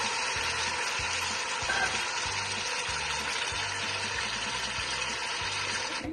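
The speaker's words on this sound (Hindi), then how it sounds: "फ्रेंड हमारा ये चिकन है, इसको मैं इस ऑयल में डाल रही हूँ और इसको हल्का सा भून लूंगी" Chicken pieces frying in hot oil in a karahi, a steady loud sizzle and crackle that holds evenly throughout with no voices.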